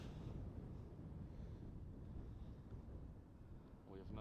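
Night wind buffeting a microphone beside a runway at Amsterdam Schiphol Airport, a steady low rumbling roar with gusty swells, fairly faint overall, with a brief voice near the end.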